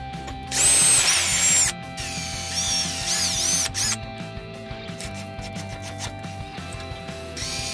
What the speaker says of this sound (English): I use the largest hole saw I have to drill out a large hole that can fit my router